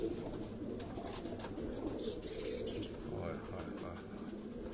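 Pigeons kept at a house give soft, steady cooing and faint chirps against a constant background hum, with some distant talk mixed in.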